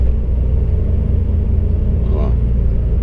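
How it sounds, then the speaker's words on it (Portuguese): A truck loaded with 26 tonnes climbs a mountain road in tenth gear at about 50 km/h, its engine a steady, loud, low rumble that fills the cab, with someone talking over it. "tá com 26 toneladas de carga. E ele tá subindo aqui, ó, 50 por hora, décima marcha."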